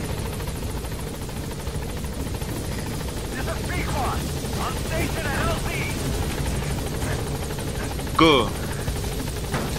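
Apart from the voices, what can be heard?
helicopter arriving in video game Metal Gear Solid V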